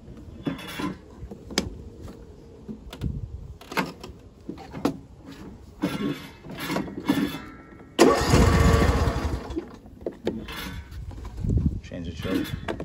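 A John Deere S170 lawn mower engine cranks in short bursts with clicks and pauses between tries, then catches and runs loud for a few seconds before dropping back to more intermittent cranking, close to the microphone.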